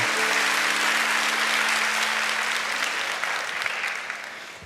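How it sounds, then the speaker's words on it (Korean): Applause from a church congregation after a musical performance during a service, a steady dense wash of clapping that holds for several seconds and slowly tapers off near the end, with no talking over it. "박수로 격려하겠습니다."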